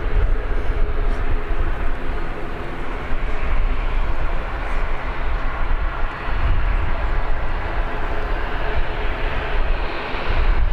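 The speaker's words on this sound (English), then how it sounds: "Probably hear the ATR in the background." An ATR turboprop engine runs steadily in the background at Birmingham Airport, a continuous low broadband drone that holds level for the whole stretch without any clear rise or fade.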